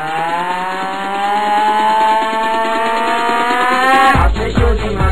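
An old Pentium 2 computer drones noisily with a steady whirring fan and harmonic whine close by, then a burst of rough rattling and knocking near the end.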